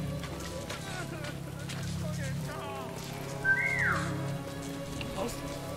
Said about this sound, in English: And if I whistle, then both of them would come.